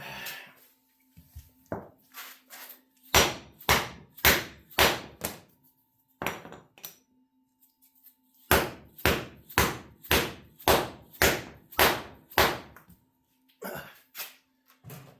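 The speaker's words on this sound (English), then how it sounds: "We're going to drive these in. We're just going to use the old whack-a-mallet." A mallet drives new bearings into a caster wheel with sharp, loud whacks in quick rhythmic runs, about seven strikes, a few isolated hits, then another run of about eight, with quiet pauses between.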